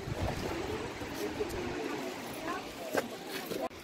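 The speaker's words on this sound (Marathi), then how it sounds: "बघा, हा कसला मस्त धबधबा आहे ठोसेघरचा।" Thoseghar waterfall near Satara, fed from a nearby dam, pours with a constant broad rushing roar, while faint voices murmur in the background.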